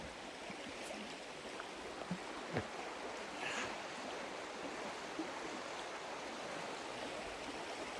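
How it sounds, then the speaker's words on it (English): Water flows steadily in a small brook outdoors on a quiet morning, a soft, continuous wash heard from nearby with no talking. "we all like the sound of flowing water. So we've got this lovely little brook down here"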